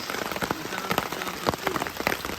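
Steady jungle rain in Suriname patters close by a hammock, with distinct drops tapping a nearby surface over a constant wash of falling water.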